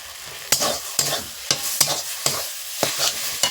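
A kochu loti (taro stolon) dish is stirred in a pan, with about eight sharp, close spatula scrapes in an uneven rhythm over a light sizzle.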